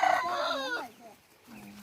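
A rooster in a backyard orange orchard lets out a loud, close crow, followed by a few softer clucks from hens pecking at corn.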